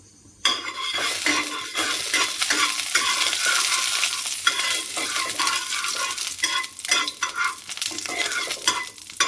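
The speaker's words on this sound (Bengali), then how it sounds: "তো তেলটা গরম হয়ে গেলে আমি এর মধ্যে একটুখানি কালো জিরে দিয়ে দিলাম।" Nigella seeds sizzling in a little hot oil in a wok, a loud close crackle with repeated metal spoon scrapes and clinks against the pan, no talk.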